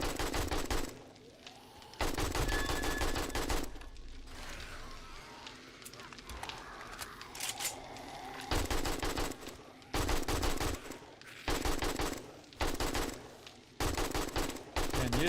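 Rapid automatic gunfire in 7 Days to Die aimed at a bomber zombie, loud bursts in repeated stretches with brief gaps between them, while a voice talks underneath.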